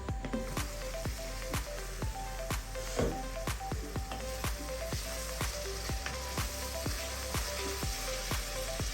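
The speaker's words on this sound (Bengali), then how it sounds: "মশলাটা কষানো হোক তারপরে আমি এর মধ্যে চিংড়ি মাছটা দিয়ে দেবো একটু মশলাটা একটু নেড়ে দিই" Spice paste frying in a pan for a shrimp and bottle gourd curry, a steady sizzle broken by a regular run of sharp spatula knocks and scrapes as it is stirred.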